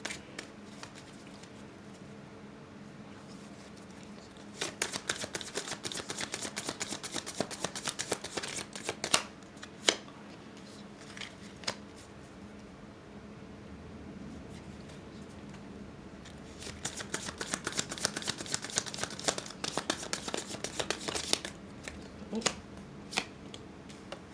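Tarot cards are shuffled up close in two rapid, fluttering bursts separated by a quieter pause, with a few single card snaps in a calm room.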